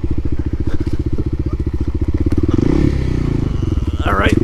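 Kawasaki KLX300 dual sport motorcycle revving hard on a rocky trail, a loud close engine with rapid firing pulses that rises in pitch, with rocks crunching and a voice exclaiming near the end.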